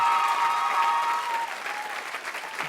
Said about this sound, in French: Bravo, merci à la famille Lebas, on peut les applaudir.